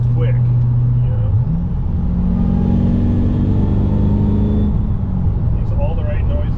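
Pontiac GTO V8 engine accelerating hard, a loud, deep steady roar that climbs in pitch and then levels off, heard from inside the car with voices talking over it.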